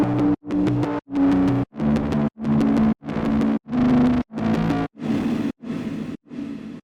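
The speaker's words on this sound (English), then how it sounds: "With processing these sick pads sounds like this." Processed synth pads built from Omnisphere presets with chorus, reverb and compression, playing a steady series of about eleven loud, evenly spaced chords, each a rich sustained block that cuts off sharply before the next, with no voices.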